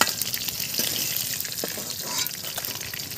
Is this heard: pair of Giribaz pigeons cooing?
no